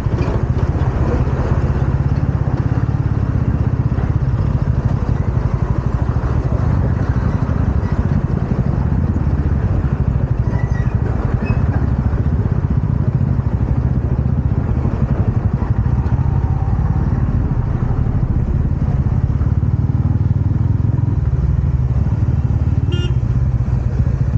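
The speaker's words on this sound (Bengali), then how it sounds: "TVS Ronin is the best bike." A TVS Ronin motorcycle engine idles in a traffic jam, giving a steady, close, loud low rumble that runs unbroken for the whole stretch with faint street clatter around it.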